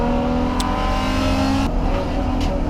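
Mazda Miata race car engine at Atlantic Motorsports Park, a loud continuous drone of revs held steady and close, with a brief shift in pitch partway through.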